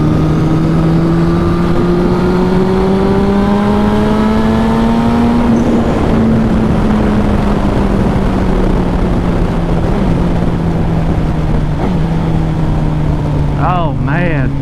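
A turbocharged Suzuki GSX-R 1000 motorcycle roars as it accelerates in sixth gear, its engine note climbing steadily and loud, then easing off with turbo chirps near the end.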